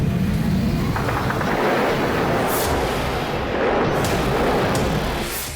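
Heavy bombardment in Idlib, Syria, with glide bombs striking residential areas: continuous loud rumbling blasts and booming impacts fill the scene, with sharper bursts near the middle and end and no talking.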